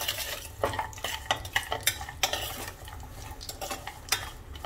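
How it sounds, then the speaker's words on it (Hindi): Dried dates and pistachios frying in oil over a low flame, a soft sizzle under repeated clinks and scrapes of a spoon stirring in the pan. "छुहारे डाल देंगे इसमें ही, थोड़े से पिस्ता। इनको अच्छे से तेल में फ्राई कर लेंगे।"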